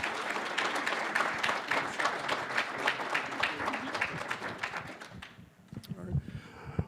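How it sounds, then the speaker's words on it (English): A roomful of club members gives a warm round of applause for the presenters at a weekly meeting. The clapping is moderately loud for about five seconds, then dies away into quiet murmurs and a few stray sounds. "Will you give her a round of applause, and Meredith as well?"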